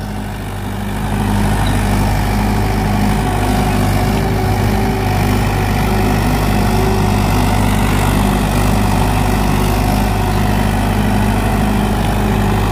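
A Mahindra 575 XP Plus 47 hp diesel tractor engine runs steadily at a constant low throb, close and loud, with no speech over it.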